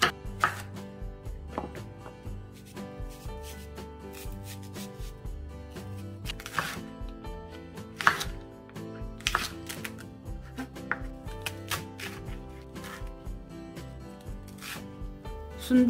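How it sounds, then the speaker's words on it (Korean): A knife chops cabbage, green onion and perilla leaves on a cutting board, making a run of crisp, close knocks in irregular bursts with brief pauses between them. "양배추, 대파, 깻잎도 깨끗이 씻어서 썰어주세요."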